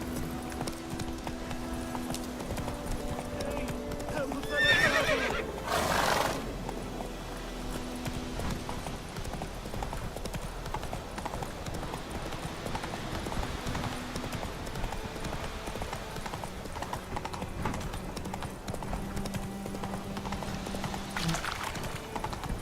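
Horse hooves clip-clop at a steady gallop throughout in the video game The Witcher 3, with a brief neigh near the start, set against soft game ambience and music.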